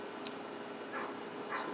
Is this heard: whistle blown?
no